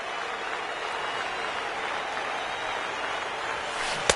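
Afternoon baseball crowd applauding at the end of a game, a steady wash of clapping and cheering heard from a distance, with one sharp pop near the end.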